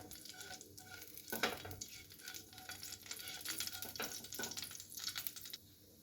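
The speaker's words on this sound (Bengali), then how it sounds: "এর মধ্যে আমি পেঁয়াজ কুচিটা দিয়ে দেব" Chopped onion hits a hot pan and is stirred, giving a soft, steady sizzle with scraping stir strokes and a few sharper clinks, fairly quiet and close.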